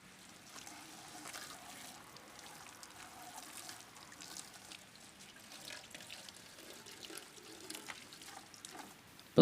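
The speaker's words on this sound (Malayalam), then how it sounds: "അപ്പോൾ നമുക്ക് ആദ്യമേ തന്നെ ഈ റേഡിയോയുടെ കവറും കാര്യങ്ങളൊക്കെ ഒന്ന് കഴുകി സെറ്റപ്പാക്കി എടുക്കാം." Water runs and trickles quietly over a plastic radio cover being washed, a soft, continuous splashing with faint irregular drips, close but low in level.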